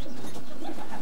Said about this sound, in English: Beautiful pigeon, mate.